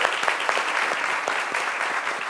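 Studio audience clapping for a singer on a talent show, a brief steady burst of many hands applauding together at moderate loudness.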